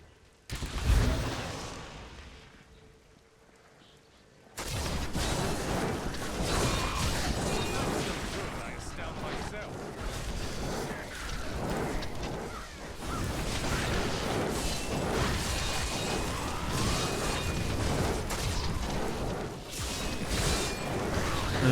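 Explosions and combat effects from the action game Diablo 3 Reaper of Souls, with a hardcore wizard in play: a loud blast opens, then after a brief lull a dense, continuous wash of crashes, whooshes and impacts fills the rest.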